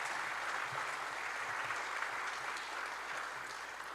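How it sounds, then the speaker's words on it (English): Steady applause from a crowd at a speaking event in Ottawa, dense continuous clapping for sponsors that holds at an even level for the whole stretch. "A big round of applause for all of our sponsors"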